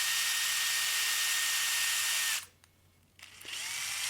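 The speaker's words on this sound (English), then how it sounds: "just running the drill and forcing it in there also is a good way to get it to fit quite nicely" An electric drill whines steadily up close while enlarging 5mm holes in a CNC3018 router frame, then drops out briefly before spinning up again, with no talking.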